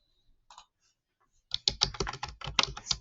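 Rapid typing on a computer keyboard while working in CAD software, a dense burst of close, crisp key clicks filling the second half after a few faint isolated taps.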